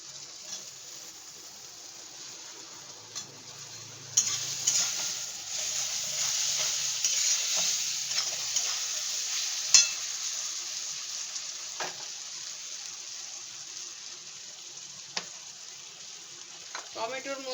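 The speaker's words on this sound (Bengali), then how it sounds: "তেলের মধ্যে বেসনটা দিয়ে একটু নেড়ে চেড়ে নেব" Gram flour being stirred in hot oil in a pan, giving a steady sizzling fry with soft scraping stirs, louder after the first few seconds, continuous throughout.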